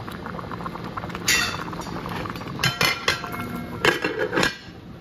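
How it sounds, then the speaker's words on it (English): A metal lid goes onto a cooking pot of meat on the stove, giving bright clanks and clinks of metal on metal in a few close bursts, with quiet kitchen background between and no talking. "I'm gonna cover this and let this cook for an hour to two"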